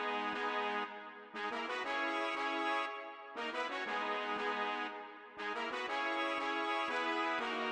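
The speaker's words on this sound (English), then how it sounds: "I really wanted a horn sound, so I just went online and I found this sample," A brass horn sample in an FL Studio trap beat plays alone with no effects, sustained rich harmonic stabs in a repeating phrase that swells and drops roughly every two seconds, loud and close.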